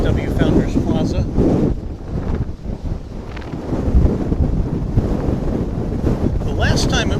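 Strong wind buffets the microphone at an open, unsheltered plane-spotting area at an airport, a loud continuous rumbling roar with gusty surges throughout.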